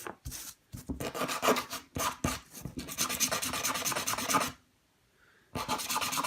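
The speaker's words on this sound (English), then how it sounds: "I am rotating this when I'm sanding it." Rough, raspy sandpaper strokes rub back and forth on a small sawn wood piece in quick bursts, close up, with a brief pause near the end before the scraping resumes.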